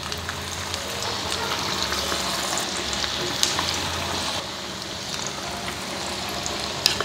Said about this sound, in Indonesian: terus kita goreng deh